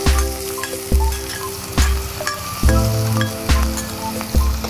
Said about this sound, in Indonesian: Kita goreng dulu terinya.